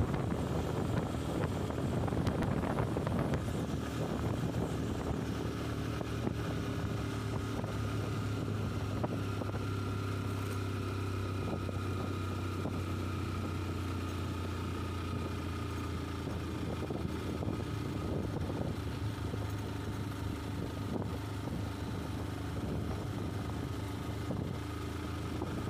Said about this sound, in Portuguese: Vamos botar o motor para roncar.